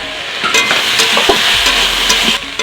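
A pan of chorchori, a Bengali mixed-vegetable dish, sizzles steadily right after its lid comes off, with close, continuous frying crackle and a few soft stirring clinks and scrapes throughout.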